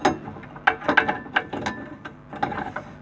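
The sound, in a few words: VW Polo handbrake lever ratchet clicking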